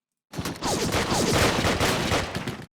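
Dense rattling gunfire from a Hex of Steel wargame battle, a loud continuous fusillade of overlapping shots and bursts that runs steadily for over two seconds before cutting off abruptly.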